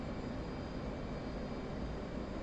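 F-18 jet engine at full afterburner in a flight video game, held near full throttle at high angle of attack, a steady, even broadband roar throughout, fairly quiet and without voices.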